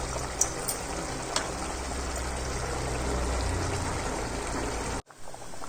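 Hot water pours steadily into a pot of chicken pulav cooking with tomato puree, garam masala and coriander powder, a continuous close splashing stream for about five seconds before it abruptly stops.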